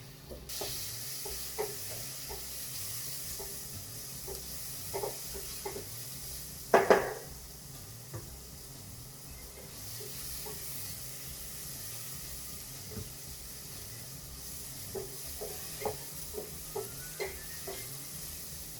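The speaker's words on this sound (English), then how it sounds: "So our onions are cooking there nicely." Onions slowly caramelizing in a pan for a spicy chorizo and capsicum rice dish, a low continuous sizzle with light periodic stirring taps and one brief louder clatter midway, close and quiet throughout.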